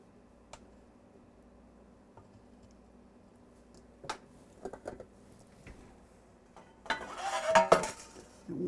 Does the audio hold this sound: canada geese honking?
no